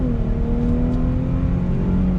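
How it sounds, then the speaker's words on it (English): A 2020 Chrysler 300 with a naturally aspirated V6 pulls hard on the road, a loud, smooth engine drone rising steadily in pitch as the car accelerates. "But let's see how the V6 accelerates."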